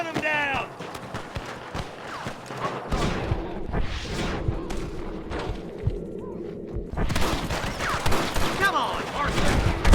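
Gunfire in the Western video game Red Dead Redemption, bursts of shots crack amid galloping horse hooves and shouting voices, with a heavy volley toward the end over the busy action.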